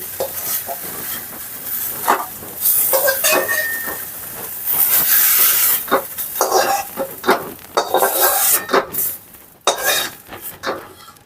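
Brinjal slices frying in oil in a kadai, with bursts of sizzling and clattering as pieces are stirred and lifted out, loud and close, no talk.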